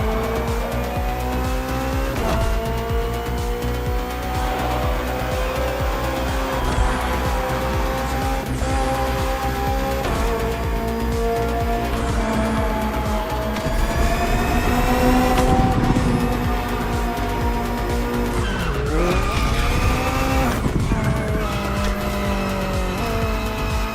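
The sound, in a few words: BMW M Hybrid V8 endurance race car driving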